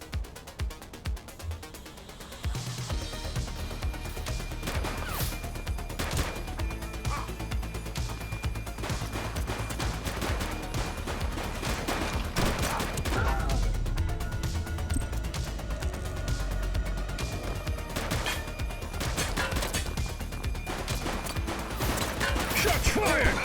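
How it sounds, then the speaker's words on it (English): Gunfire in The Precinct during a police takedown of a suspect, with repeated sharp shots and bursts over a busy, loud scene after a quieter opening, and voices calling out amid the shooting. "Shots fired!"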